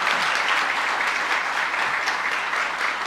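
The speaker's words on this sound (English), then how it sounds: "Mayor Kathy Sheehan, let's give her another round of applause." Steady audience applause fills a hall after remarks by the governor of New York on the housing crisis, a dense, even clapping that stays loud throughout.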